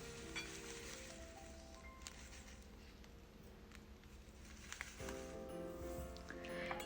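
Panko breadcrumbs being stirred into melted butter in a bowl, a soft, faint continuous crackling and scraping texture with light squishy patter, steady throughout with a slight rise near the end.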